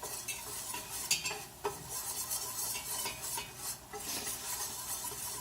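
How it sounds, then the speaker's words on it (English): Whisk stirring melting butter in a pan over medium heat while making crab macaroni and cheese, a steady scraping, stirring sizzle with a few sharp metallic clinks against the pan, close and continuous. "We're just gonna stir it around with the whisk."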